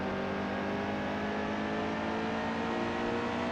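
A race car in a racing game coasts in on a half-mile oval after its laps, its engine a steady, continuous drone at an even pitch with no revving surges, heard alone without talk.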